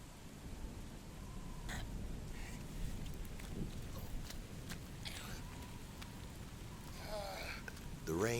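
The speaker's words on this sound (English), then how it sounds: "The rain came down at such an angle that my umbrella was practically useless." Steady rain falling in a heavy downpour, a faint continuous hiss with a low rumble beneath it, running unbroken through the scene with a few small sounds in the last seconds.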